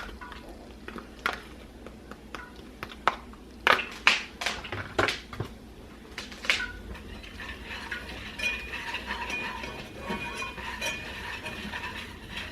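Whisk clinking and scraping in a pan as flour is worked into hot sausage grease, a run of sharp metallic taps and stirs near the mic over a soft background sizzle.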